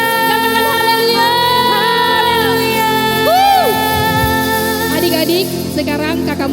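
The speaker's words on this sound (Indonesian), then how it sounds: "Tepuk tangan yang meriah buat Tuhan Yesus." A congregation of children at an Ascension Sunday school service at GBI Blok M claps and cheers in a dense, loud crowd wash, with shouts and whoops and an amplified voice rising over it.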